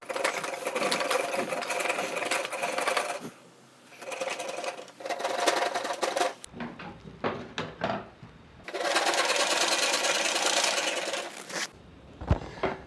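A half-round rasp files a pine wood baseboard for a piece of furniture, the pine carrying a line of resin. Sustained, close, scratchy strokes come in long bursts separated by brief pauses.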